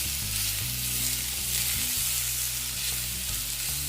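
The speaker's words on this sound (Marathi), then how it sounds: "आपली भजीसारखं त्याला तेलामध्ये फ्राय करून घ्या" Moringa pakoda batter with carom and sesame seeds deep-frying in oil, a loud, steady, close sizzle with constant bubbling crackle throughout.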